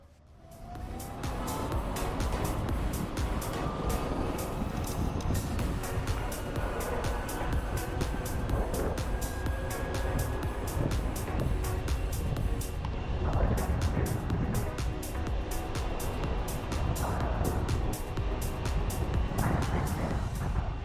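An Ather 450X electric scooter (2022) runs at its top speed in Eco mode, a continuous loud rush of wind and road noise with a faint motor whine rising in pitch over about twenty seconds, no voices.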